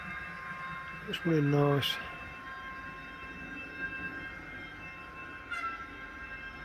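A model train locomotive fitted with a GYSEV ESU V5 sound decoder gives a short horn blast, with a faint rail rumble underneath and a brief second tone later, while someone speaks briefly nearby.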